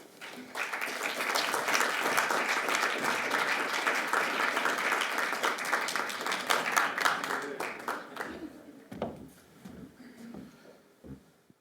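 An audience bursts into sustained applause as a lecturer is welcomed to a distinguished professorial lecture, the steady clapping holding for several seconds before tapering off into scattered claps and a few voices.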